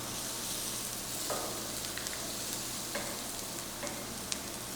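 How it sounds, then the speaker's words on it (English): Onions frying in a pan as the base for a burrito bowl give a steady, close sizzle that runs unbroken throughout, with a few faint stirring clicks and no talking. "give those onions a couple more minutes to really get nice and translucent"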